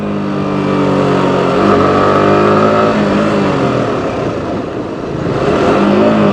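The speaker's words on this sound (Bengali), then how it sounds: "দু গিয়ারে কিন্তু ভালো গাড়ির আওয়াজ দিচ্ছে" A motorcycle revs hard in second gear on a public road, loud and close. Its engine note climbs and holds in a sustained, rising roar.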